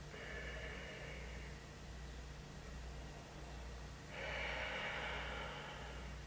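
Slow, deep yoga breaths: one long exhale, a pause, then another strong airy breath, close to the microphone over a low steady hum, with no speech.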